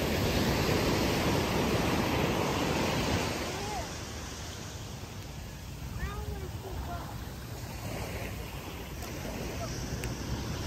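Ocean surf at a beach in Maui, a loud broad wash of breaking water that eases into a quieter, steady rumble, with faint voices talking underneath.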